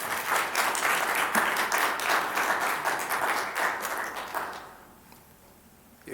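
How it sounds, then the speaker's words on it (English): Audience applause at a city council meeting, a dense steady patter of many hands clapping that fades out toward the end, leaving a quiet room. "please refrain from clapping or having response during the communications"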